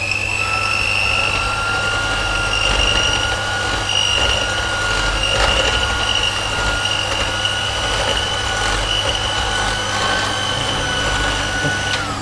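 Electric stand mixer on its lowest speed folding flour into mascarpone cake batter, a steady continuous motor whir and hum running unbroken and fairly loud throughout.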